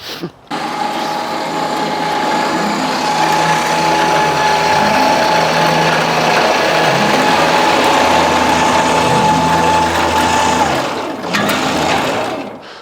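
The tarp on a Mulch Mate DMT trailer winds up with a steady, loud mechanical whir and ratcheting gear drone that runs continuously for about ten seconds, then cuts off.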